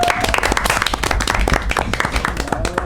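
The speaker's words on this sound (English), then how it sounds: "round of applause" A round of applause at a Lathrup Village DDA directors meeting welcoming a new staff member, with sharp, close individual claps from a small group of people, brisk and uneven, and a brief voice near the start.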